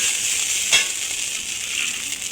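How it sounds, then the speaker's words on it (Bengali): Flattened rice (chira) sizzles steadily in a pan over low heat, a continuous bright frying hiss with a brief stirring scrape near the start. "চিড়ের সাথে ভালো করে মেশাবো। হিটটাকে কিন্তু এবার লো করে দিয়েছি।"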